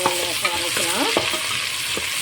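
Onions sautéing in a pan for ghee rice hiss with a continuous close sizzle, broken by a few quick scraping stirs.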